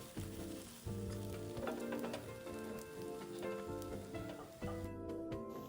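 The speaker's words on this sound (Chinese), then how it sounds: "全程保持文火，煎至两面微焦即可离火。" A bitter gourd omelette fries over low heat in a pan, giving a steady soft sizzle that runs throughout with a few light scrapes and taps.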